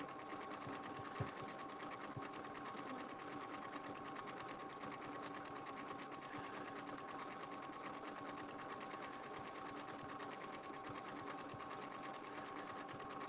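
A sewing machine stitches continuously over a seam on a Valentine's Day project, a steady close whirring hum that runs alone throughout at even level.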